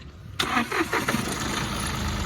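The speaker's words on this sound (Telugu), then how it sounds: "సింగిల్ సెల్ఫ్లో బండి స్టార్ట్ అవుతుంది" A 2017 Mahindra TUV300 T8 engine cranks briefly on the self-starter and catches on the first try, then settles into a steady, close idle with no talking.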